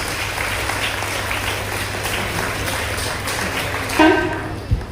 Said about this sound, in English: give a huge round of applause to all the merit students